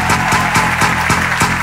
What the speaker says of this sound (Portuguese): Salva de palmas pra esse momento, senhoras e senhores.